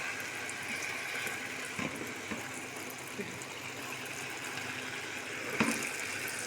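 Cold tap water runs steadily for soaking Iraqi dolma, a continuous faucet rush into a kitchen sink with a few faint clinks and bumps over it, fairly close and even in level throughout.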